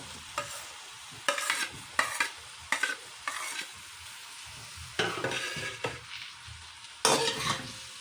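A spoon stirs mashed potato filling in a wok with separate scraping, mushy strokes at irregular intervals. Soft sizzling fills the pauses, and there is no talking.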